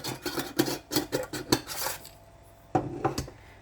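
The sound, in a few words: stirring cut chocolate into granola in a bowl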